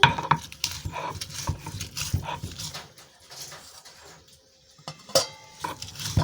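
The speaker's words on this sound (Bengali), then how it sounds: "এখন আমি শিল দিয়ে আমি বর্তাটা শিলপাটাতে করে নিচ্ছি" Scraping, grinding strokes of stone on stone with clinks and knocks as shrimp are ground into a paste on a flat grinding stone, irregular and close, pausing briefly midway before resuming.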